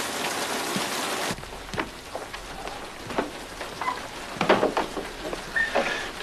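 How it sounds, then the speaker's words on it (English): Heavy rain in the video game GTA 5 on a dark night, a loud hiss of downpour at first, then patchier pattering drops and splashes on surfaces, with no talking. "I didn't hear you in all this rain."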